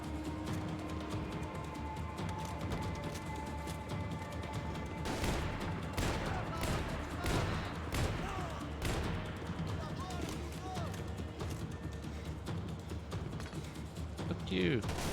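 A shotgun-like weapon fires in the shooter Max Payne 3: a string of punchy blasts comes in an irregular rhythm over busy game ambience, with a voice talking during parts of it.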